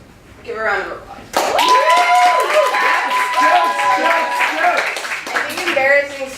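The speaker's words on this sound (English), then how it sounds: "give a round of applause" Comedy club audience breaking into sustained applause and cheering after a call for a round of applause, loud and dense for about four seconds, with a speaking voice before and after.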